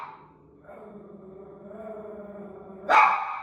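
A dog barks indoors: a low whining growl builds, then one loud sharp bark close by near the end.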